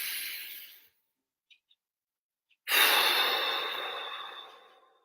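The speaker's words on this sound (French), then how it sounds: "Et vous savez juste prendre une grande respiration." A deep breath is taken during a hypnosis session: a long exhale fades out, a second of silence with tiny clicks follows, then a loud, close inhale slowly tapers away.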